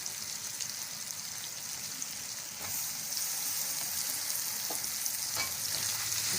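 Tomatoes added to garlic ginger paste frying in a pan for a chicken and green bean curry, giving a steady close sizzle that grows louder partway through, with a few soft clinks and stirring noises and no talking.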